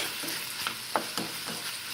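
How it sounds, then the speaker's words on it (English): Lamb and vegetables sizzle and crackle steadily in a wok over high heat, with a few soft stirring scrapes punctuating the frying. "as you can see and hear, we started to get a little sizzle"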